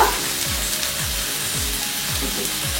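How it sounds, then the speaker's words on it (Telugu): Oil sizzles steadily in a pan while the base for a beans and egg curry fries, a continuous hiss with regular low thumps recurring roughly every half second, close and moderately loud with no talk. "2 నిమిషాలు ఫ్రై అయితే సరిపోతుంది మనకి."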